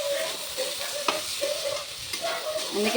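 Bora rice being stirred in a hot pan while it fries: steady scraping strokes over a continuous close sizzle, with no voices.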